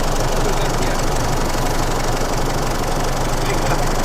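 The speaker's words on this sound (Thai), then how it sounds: "อันนี้รถเพิ่งกลับมาจอดนะ เครื่องยังร้อนอยู่เลย" A used car's engine idles just after being parked while still hot, a steady close rumble with a faint knocking texture and no change in pace.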